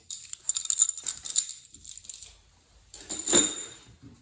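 Metal pushrods being pulled one by one from a Ford 302 tunnel port engine, giving bright clicking and rattling clinks in two close bursts separated by a short pause, with no talking.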